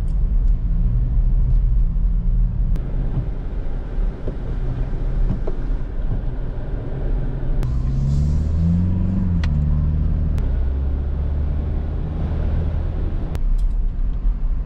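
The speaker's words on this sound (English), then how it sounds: "Now here's an audio comparison of the Everest and the Fortuner using the same GoPro and the same microphone." Steady, loud low-frequency road and engine rumble fills the cabin of a Toyota Fortuner GR S with sport shock absorbers while driving, with a few faint knocks and no talking.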